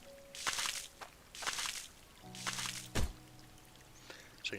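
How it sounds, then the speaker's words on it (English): Water valve in the mining game Hydroneer switching water on and off, giving a string of soft watery bloops and gushing bursts at roughly one-second intervals, with a few low hollow knocks between them. "This, of course, will turn the water on and off, so we have to listen to it go bloop, bloop, bloop all the time."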